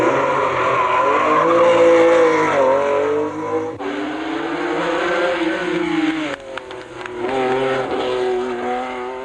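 Renault 5 Turbo rally car racing hard, its engine loud and near with rising and falling revs, tires squealing and skidding through corners, a brief shift-like break partway through.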